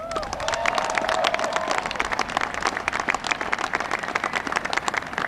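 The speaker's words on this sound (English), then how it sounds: "Give them another round of applause." A large audience applauds at an Air Force gathering, a dense, loud wash of clapping with a brief whoop or cheer early on, sustained evenly throughout.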